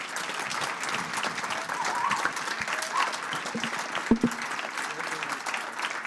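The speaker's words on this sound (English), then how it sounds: "Can you please give a round of applause to the panel?" Audience applause for a panel at a regional government conference, sustained, dense clapping from a large crowd with faint murmuring beneath it.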